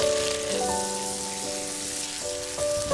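Shrimp sizzles steadily in a pan with a thin layer of oil and a spoonful of salt, a soft, even crackle like light rain, with a few faint clinks over it and no talking.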